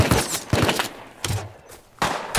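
Heavy gunfire in the survival game Rust during a crowded wipe-day server fight, with several loud bursts of shots in quick succession separated by brief lulls, close and punchy.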